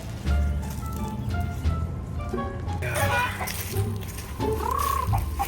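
A backyard chicken clucks and squawks in short bursts amid steady outdoor noise, with people talking over and around the calls.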